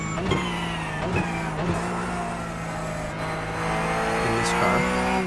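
A Porsche 992.2 GT3 Cup race car is driven in iRacing. The engine howls steadily through the gears, with several sharp upshift breaks and revs rising again, close and loud throughout.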